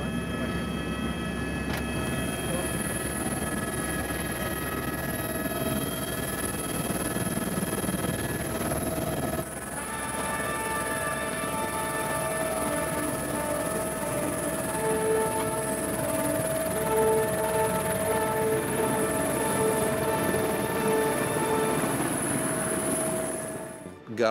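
Steady, continuous helicopter rotor and turbine drone in the New Zealand mountains during a tahr hunt, loud and close throughout with a brief shift midway, no talking.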